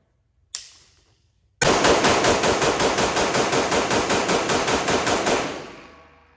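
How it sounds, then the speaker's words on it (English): One sharp shot rings out from a Staccato XC pistol, then after a short pause a loud, rapid string of about twenty evenly spaced shots follows, with echo trailing off outdoors at the end. "Staccato XC, rapid fire."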